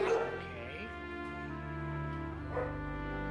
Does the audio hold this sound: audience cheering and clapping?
no